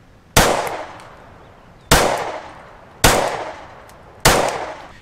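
Four loud pistol gunshots fired without a compensator, evenly spaced about a second apart, each a sharp crack with a short ringing decay, outdoors with no voices.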